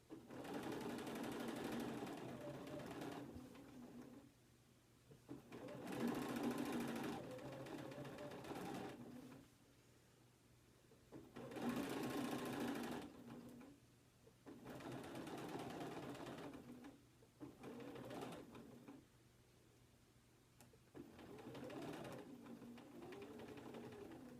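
A sewing machine stitches through a Log Cabin quilt block in several steady runs of rapid needle chatter, separated by short pauses, fairly quiet and close, with no talking.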